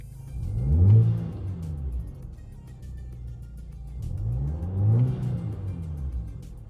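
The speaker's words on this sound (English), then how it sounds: "I'll go ahead and give you guys a couple of revs inside." Audi A4 B8 turbo engine fitted with a CTS cold air intake, heard from inside the cabin, revved twice in two rising, swelling pulls that fall back to idle between them, with a deep rumble and intake whoosh.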